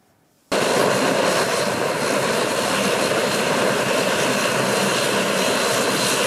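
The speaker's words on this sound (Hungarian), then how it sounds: "kettős vízsugár fogadja a leszálló pályán földet ért gépet" A passenger airplane landing at Pécs airport starts with a sudden loud, steady engine roar that carries on close and unbroken, with no talk over it.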